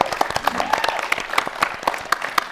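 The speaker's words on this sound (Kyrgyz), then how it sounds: "Азаматсыз кол чабуулар" A studio audience on a couples competition show applauds with a steady patter of claps, a few sharp rhythmic hand claps standing out above the crowd.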